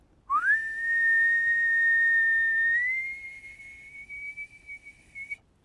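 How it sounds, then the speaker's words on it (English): A single sustained whistle into a microphone, rising quickly to a steady clear tone, then stepping slightly higher and holding for several seconds before stopping, loud and close with no talk. "Let me whistle into this."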